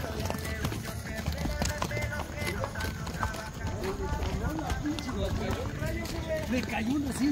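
Horses' hooves clip-clop steadily on pavement during a cabalgata horseback parade in Uriangato, Mexico, a continuous rhythmic trotting mixed with a crowd's chatter and voices nearby.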